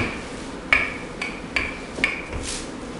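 A wooden rolling pin rolls out floured pie dough for a beef pot pie, giving several soft thumps and brushing strokes at a close, moderate level over a steady background hiss.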